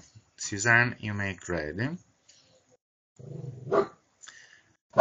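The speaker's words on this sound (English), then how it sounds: "Sorry for my dog who is misbehaving" A pet dog barks in a home during an online meeting, a few sharp, close barks and yelps that break through and trail off between spoken words.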